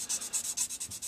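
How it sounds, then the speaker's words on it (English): Hand sanding a flat surface, heard as a steady run of about eight rhythmic rubbing strokes, close and fairly quiet with no talk. "sand, sand, sand until you get it down flat"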